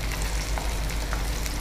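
Onion fries in a pan for Punjabi tomato rice, making a steady, close, crackling sizzle that holds at an even level throughout.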